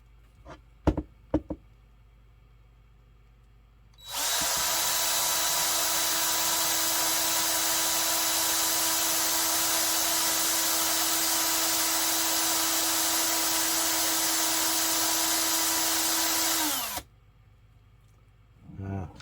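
A drill bores steadily into the gear housing of a 1976 TYCO Bicentennial model train, a loud continuous whine lasting about thirteen seconds with a few sharp knocks just before it starts.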